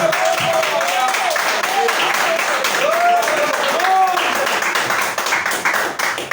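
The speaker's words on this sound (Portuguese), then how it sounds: "Vamos adorar o Senhor com palmas bem alegres" A congregation claps along during an evangelical worship service held in a home, with steady, continuous clapping under singing or a leader's voice throughout.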